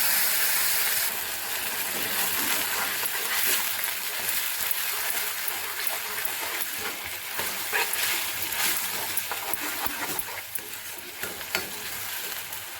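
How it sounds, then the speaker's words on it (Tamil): Ground raw tomato is poured into a hot pan of turmeric-spiced base for a Tamil tomato kulambu, setting off a loud, steady, close sizzle and hiss with stirring scrapes that runs without pause throughout. "அரைச்சி வச்ச தக்காளியை பச்சையாக அரைச்சி வச்ச தக்காளியை ஊற்றிக்குவோம்"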